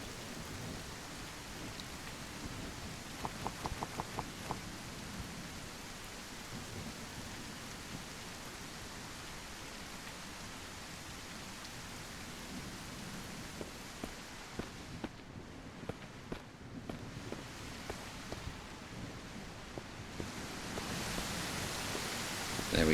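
Steady rain falls in the survival video game Mist Survival, a dense, continuous hiss that holds at an even level throughout, with a few faint ticks and patters and a slight swell near the end.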